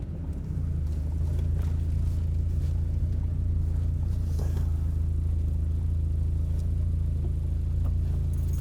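A classic first-generation VW Golf GTI on a Sunday afternoon drive, its engine holding a steady, loud low rumble from inside the cabin with no talk.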